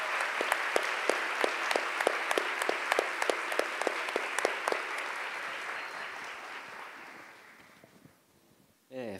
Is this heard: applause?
yes